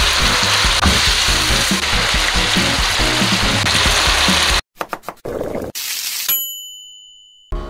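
Bean sprouts and vegetables stir-fry with beef brisket in a pan for Korean bean sprout bulgogi, giving a loud, steady, crackling sizzle. It is followed by a few metallic clanks, a bright ding and a fading ring.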